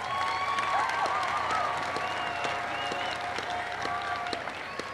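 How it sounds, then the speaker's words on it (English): Applause rolls through a school gym at a 1994 show choir invitational awards ceremony, a fairly faint, steady clapping from a large crowd with scattered cheers and voices. "Let's give them a round of applause."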